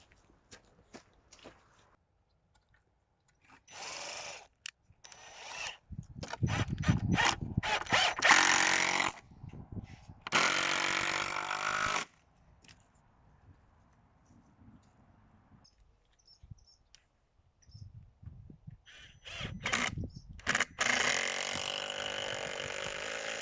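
Decking screws being driven by power tool into the corner of a wooden pallet compost bin, several separate whirring bursts of a few seconds each with quiet gaps between, close and fairly loud.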